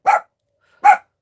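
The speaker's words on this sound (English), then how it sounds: "There goes my dogs." Two sharp dog barks sound about 0.8 seconds apart, each loud and close with a quick fade into silence in between, inside a home.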